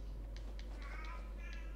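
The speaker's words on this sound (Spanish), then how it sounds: "A veces les dan así y se ponen a maullar, a correr de aquí para allá." A cat meowing in the game Fallout 4, several short, fairly faint meows in quick succession over a steady low hum.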